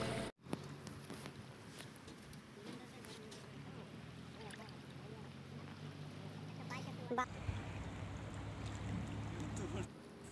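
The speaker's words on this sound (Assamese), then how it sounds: "আৰু এয়া নাৱত উঠি গ'লোঁ আমি চাওক কেনেদৰে গৈ আছোঁ" A wooden boat glides along a river, a faint, steady wash of water and engine-like hum with occasional light knocks and splashes; voices are heard faintly.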